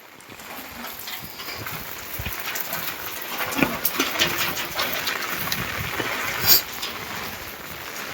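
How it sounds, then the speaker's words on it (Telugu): Rain falls steadily outdoors near a village building site, a broad continuous hiss with scattered sharper drops and patters that grow slightly heavier midway, with no voices. "మరి వర్షం పడుతుంది"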